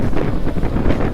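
Steady roaring wind buffeting the microphone while riding a Honda ADV 160 scooter with its windshield set low, loud and continuous with no speech.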